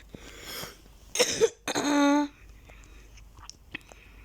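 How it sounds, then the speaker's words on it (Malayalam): A person coughs in a few harsh, close bursts, one followed by a strained, voiced rasp, with quieter breathy noise and faint clicks between. "ഇത് ഞാനിന്ന് ചുമച്ച് ചാവും"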